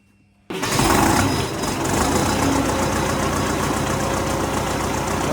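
Loud tractor engine turning over and then running with a rough, knocking idle, a steady mechanical rumble that continues without voices.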